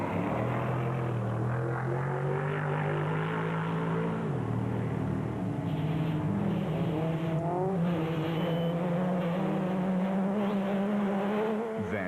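Rally cars compete in the Sugarbelt 400, with Neil Woolridge setting the pace; engines drone and rise in pitch as they accelerate and shift, loud and sustained, passing near throughout.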